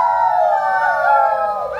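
Voices imitate a wolf howl, a sustained, wavering tone that slowly falls in pitch, loud and near, lasting under two seconds.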